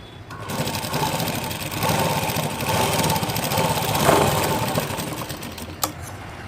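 Sewing machine running steadily while stitching a shoulder seam on a garment, a continuous mid-pitched whirring hum with a brief pause and a small click near the end.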